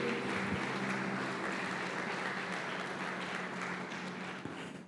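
Congregation clapping in a church service, a dense, sustained round of applause that holds steady for several seconds and then tapers slightly at the end.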